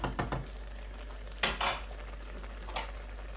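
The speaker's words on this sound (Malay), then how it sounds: "Dan lanjut kita akan ya kita kacau-kacau ya seperti biasa" A utensil scrapes and clatters against a pan while stirring a chili sauté over a low flame, with a few sharp metallic strokes above a faint background hum.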